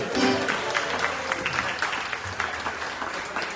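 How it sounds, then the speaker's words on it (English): Audience at a polka concert during a concertina festival breaks into steady, dense applause, a sustained wash of clapping throughout with no talk over it. "Let's give him a nice round of applause, everybody."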